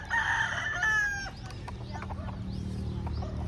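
Chickens and roosters on a farm in Marinduque, with a rooster crowing loudly at the start followed by scattered clucks and calls from the flock over a steady low outdoor rumble.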